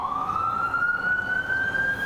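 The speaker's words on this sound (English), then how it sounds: "I'll wait for the sirens to stop." A siren wails steadily at a fairly constant pitch, rising slightly, loud and continuous over faint background rumble.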